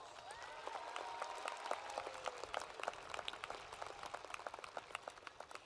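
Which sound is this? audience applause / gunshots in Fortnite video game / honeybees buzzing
audience applause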